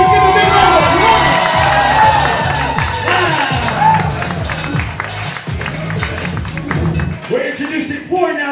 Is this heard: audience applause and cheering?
yes